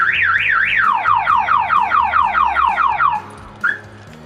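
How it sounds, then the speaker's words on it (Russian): A car alarm wails loudly and close by, set off by opening the fuel filler flap, its pitch sweeping up and down in a fast repeating cycle, then cutting off abruptly. "И сразу сработала сигнализация."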